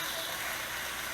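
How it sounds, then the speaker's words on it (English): Pork chops brown in a cast iron chicken fryer, giving a steady close hiss of sizzling fat that runs unbroken, with a small clank near the end. "just browning up our pork chops"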